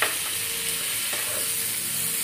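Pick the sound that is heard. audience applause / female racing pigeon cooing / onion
onion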